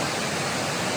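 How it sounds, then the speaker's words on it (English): Waterfall at Ricketts Glen, a steady broadband roar of falling water filling the scene at close range, continuous and even for the full second with no voices. "a really beautiful waterfall."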